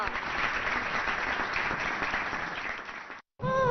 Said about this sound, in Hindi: जोरदार तालियों से स्वागत हो जाए